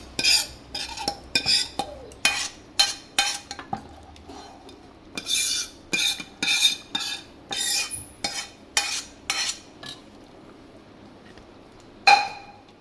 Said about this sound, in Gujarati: હવે એ આપણે દાળ ઢોકળીમાં એડ કરી દઈએ